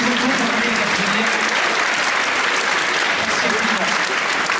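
Loud, continuous applause from a crowd at a promotion ceremony, dense clapping with some voices and chatter mixed underneath.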